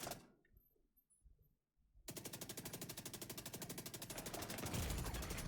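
Enemy gunfire in The Division 2, an abrupt sustained automatic burst of rapid, evenly spaced shots, loud and close, erupting after a near-silent pause and growing heavier toward the end.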